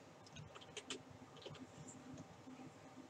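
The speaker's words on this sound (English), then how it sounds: "I am typing with, I'm not even looking at the keyboard" Typing on a computer keyboard in a pitch-dark room lit only by a USB light, with irregular soft key clicks, close and fairly faint, over steady room noise.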